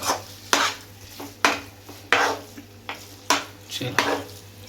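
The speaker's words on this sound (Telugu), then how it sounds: "మంచిగా మిక్స్ చేసుకోవాలి అన్ని కలిసేటట్టు" Vegetable Maggi noodles being stirred and mixed in a pan on a stove, with a spoon knocking and scraping against the metal in repeated close, loud strokes over a faint sizzle.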